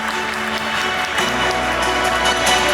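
Gala dinner audience at the Istanbul furniture fair applauding to welcome a speaker to the podium, a dense, steady wash of many hands clapping that holds evenly throughout, with a faint background hum.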